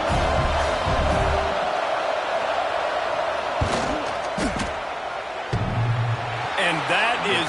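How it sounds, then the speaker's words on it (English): A football stadium crowd roars loudly and continuously to rattle a kicker lining up a field goal, with thumping bangs and surges of noise under a commentator's voice. "This crowd trying to do its part to get inside the kicker's head."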